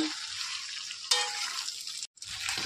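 Sweet Bengali mango pickle being stirred in a pan gives a steady, bright sizzling scrape throughout, with a brief cut to silence near the end and no one speaking.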